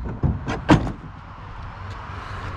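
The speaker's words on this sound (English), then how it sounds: "safely stowed in a pull-out drawer" A DECKED pull-out drawer in the bed of a 2017 Toyota Tacoma slides open, giving a few short rolling and clunking bursts close by, then settling into quiet room tone.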